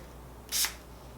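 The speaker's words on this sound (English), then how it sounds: "Let's give it a spritz. I think I'll spray it on the box." A lavender sleep mist spray bottle gives a single short spritz, a brief soft hiss standing alone in a quiet room.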